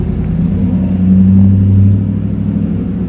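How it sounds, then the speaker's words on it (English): A car drives past outside a storage unit, a steady low engine rumble that swells toward the middle and then eases off, fairly close and continuous. "as the car drives by."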